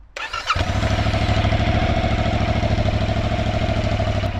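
A Yamaha motorcycle engine cranks briefly and catches, then settles into a loud, close, steady idle with a rapid pulsing throb that holds to the end, with no talk over it.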